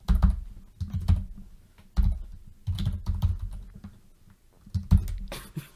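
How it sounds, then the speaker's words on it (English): Typing on a computer keyboard in quick irregular bursts of clacking keystrokes, close and clear, with short pauses between flurries and no voices. "I had meant to type out the word you"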